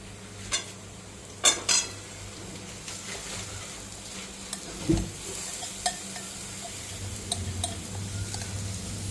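Spoon scraping and clinking against a wok as a thick raw jackfruit curry is stirred, with a faint sizzle underneath and a few sharper knocks.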